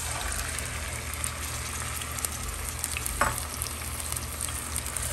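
Small fish go into hot mustard oil to fry, producing a steady, close crackling sizzle with light stirring and a brief sharper scrape midway.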